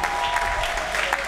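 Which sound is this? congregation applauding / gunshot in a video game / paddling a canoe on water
congregation applauding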